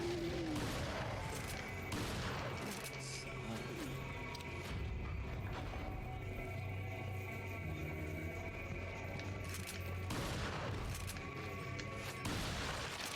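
Booming in-game explosion from a grenade in Resident Evil 4, loud and dense with crashing and gunfire-like bursts that continue throughout, swelling again near the end with no clear speech.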